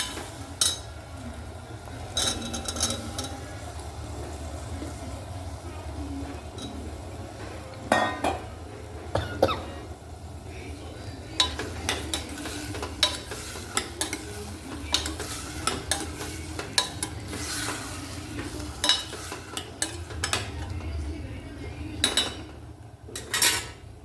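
Spoon stirring peas, potatoes and tomatoes in a pan, with steady close scraping and frequent metallic clinks against the pan over a soft sizzle, no talking.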